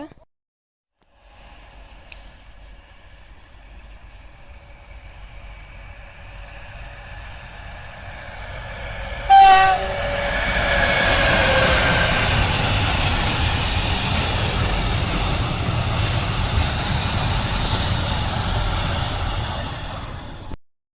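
A train engine hums steadily at Babiak station, then a loud horn blast sounds midway and the train rumbles past with broad roaring noise that continues to the end.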